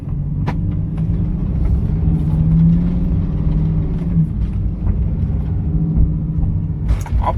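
A Lamborghini Huracan EVO in manual mode with paddle shifters gives off a loud, continuous low engine rumble, swelling slightly as it pulls forward, heard close from the cabin.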